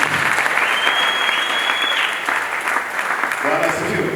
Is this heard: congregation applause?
yes